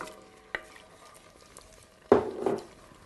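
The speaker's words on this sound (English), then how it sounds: "Always stirring." Onion and milk sauce being stirred in a pan, a brief utensil knock early on, then a louder burst of stirring and bubbling liquid before it settles, with no talking.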